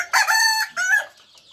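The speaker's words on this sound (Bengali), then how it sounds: "এই যে একটা মোরগ" A crested rooster of a good breed makes two close, harmonically rich clucking calls in quick succession, loud and clear with no talking.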